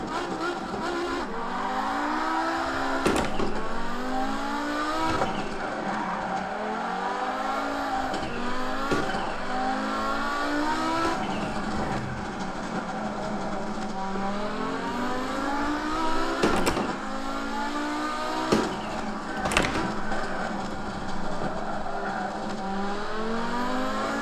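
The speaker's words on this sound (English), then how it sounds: "Let's take this Audi Quattro for a spin on Nürburgring Nordschleife." An Audi Quattro S1 rally car on the Nürburgring Nordschleife, its engine roaring loud and close through repeated rising revs and gear shifts, with occasional tire squeals and sharp bangs along the run.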